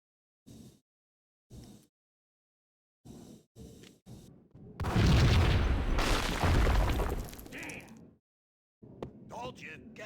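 A heavy explosion in Max Payne booms and rumbles for a few seconds, loud and close, between short spoken lines from a man before and after it.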